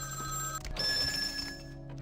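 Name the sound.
telephone ringing in haunted hotel, from a video game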